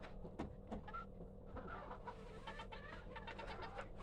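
Chickens cluck softly in an enclosure, a few faint, scattered clucks and low murmurs over a steady background hum.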